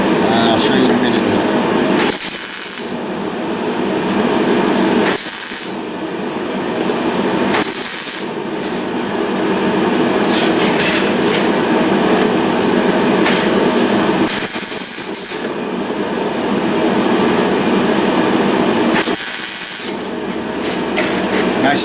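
Loud, crackling stick-welding arc hisses and sputters roughly and unevenly, with a bead stuck on the electrode end, broken by several short pauses where the arc stops and restarts.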